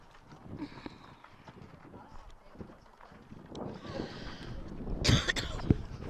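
A cough at an outdoor varsity high school baseball game, a few brief bursts standing out near the end over crowd murmur and talk.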